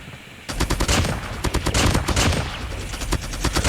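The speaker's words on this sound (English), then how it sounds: "it's still guaranteed 4 shots when you hit one after 1 shot" The DR-H rifle in a first-person shooter video game fires in rapid automatic bursts, loud sharp shots in quick rhythm after a brief quieter lead-in.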